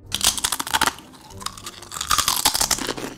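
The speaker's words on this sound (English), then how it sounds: "Pringles crunch." Pringles potato crisps being crunched and chewed close up, bursts of sharp, brittle crackling in quick irregular clusters with a short pause midway.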